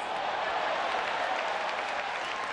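Baseball crowd at a White Sox at Red Sox game in Boston cheering and clapping in a steady, dense roar across a full stadium, with no speech.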